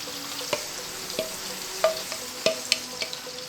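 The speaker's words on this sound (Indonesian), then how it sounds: "Kita goreng lagi sampai dengan selesai." Prawns fry in hot oil in a pan, a steady crackling sizzle broken by sharp pops and occasional clinks of stirring, close and moderately quiet.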